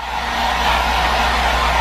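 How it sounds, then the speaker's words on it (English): A hair dryer blows on wet shorts, a loud, steady close-up whoosh with a constant motor drone and no breaks. "currently drying my shorts that are wet with the hair dryer"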